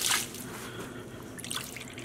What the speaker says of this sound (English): Just adding water back onto the avocado, leaves and skins, and roughly dividing it in the two pans.